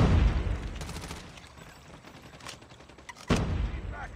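Gunfire in the Call of Duty Mobile video game on a new map with the QQ9 weapon, heard as a burst of sharp shots at the start, scattered single cracks through the middle and another loud report near the end.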